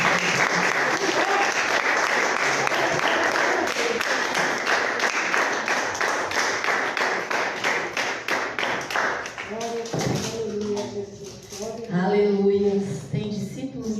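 A church congregation claps together in sustained, dense applause that fills the space, thinning out toward the end as a few voices rise over the fading claps.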